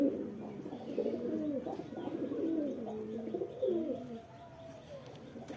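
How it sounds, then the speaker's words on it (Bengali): Domestic pigeons, including white and green birds, coo in low, throaty repeated phrases at close range, overlapping for the first four seconds before fading, with no talking. "আমার বাড়িতে 3টে সবুজ পায়রা আছে, বাকি সব গোলা কবুতর খেতে আসে"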